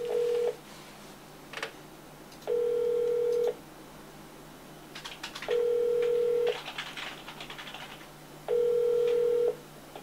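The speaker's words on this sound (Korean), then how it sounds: "우리 에너지 정리행동 천연진 활동가 연결해서 계속 이야기들 좀 들어보도록 하겠습니다" A telephone line connecting an outgoing call during a Korean talk show, with four evenly spaced, steady ringback tones that each last about a second and have gaps between them. No one speaks.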